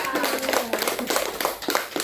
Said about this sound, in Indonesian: kita berikan tepuk tangan untuk Andrea